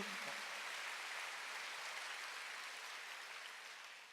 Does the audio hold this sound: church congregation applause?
yes